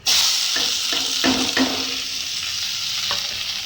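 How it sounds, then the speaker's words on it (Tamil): Shallots, curry leaves and dried red chillies hit hot oil for a yogurt tempering, giving a loud, steady sizzle from start to finish with a few spoon scrapes and stirs breaking through. "இப்போ கருவேப்பிலை, வெங்காயம், வரமிளகா போட்டுக்கலாம்"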